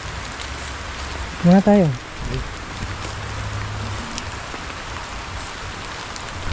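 Steady rain falls on a campsite with a small tent shelter, a continuous broadband hiss throughout, with brief talk from a man partway through.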